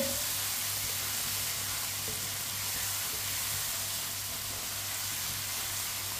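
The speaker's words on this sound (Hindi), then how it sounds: "अब इसे 2 मिनट के लिए पका लेंगे।" Bottle gourd (lauki) sabzi cooking in a pan, a continuous even sizzle and hiss held at a steady level for several seconds, close and with no speech.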